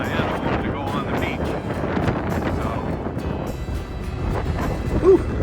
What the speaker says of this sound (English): Boy, is it windy today.